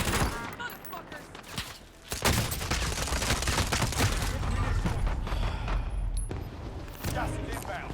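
Gunfire in Call of Duty Warzone, dense bursts of rapid automatic shots crackling almost continuously, loud and close after a brief quieter opening, with voices talking beneath.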